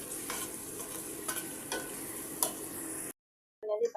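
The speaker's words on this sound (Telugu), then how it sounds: "ఇవన్నీ వేసుకొని దీన్ని కూడా ఒకసారి మొత్తం అంతా కలిపేసుకొని దీన్ని కూడా ఒక 2-3 నిమిషాలు అలా ఫ్రై చేసుకోండి" Cloves, bay leaf and cardamom fry in a pan for chicken pulagam, giving a steady close sizzle with stirring scrapes and clicks, then it cuts to brief silence and a short clatter.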